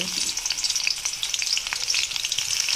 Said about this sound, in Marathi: कढई ठेवले तेल पण टाकलंय तेल तापलंय तर टाकूया लसूण